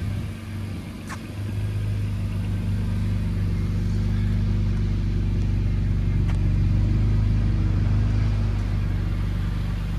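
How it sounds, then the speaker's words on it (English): A 2004 BMW M3 convertible idling with its exhaust running, a steady deep low rumble that settles after a brief rise in revs and holds evenly, close and loud with no talking. "I left it running so you could hear the exhaust. It's a beautiful sounding exhaust."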